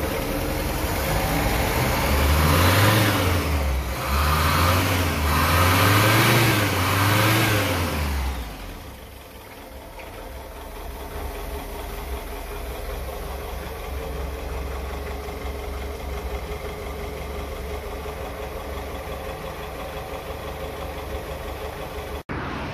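A blue Chevrolet Opala Comodoro coupe engine revs up and down several times nearby, then settles into a steady, rumbling idle.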